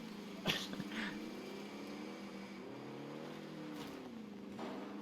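A car engine in the video game Warzone drones steadily at moderate distance, its pitch gently rising and falling as it drives, with a couple of brief sharp noises early on.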